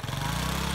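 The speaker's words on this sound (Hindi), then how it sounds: "मोटरसाइकिल सुजुकी है" Suzuki motorcycle engine running nearby, a loud steady low drone with a fast even throb, short and unbroken.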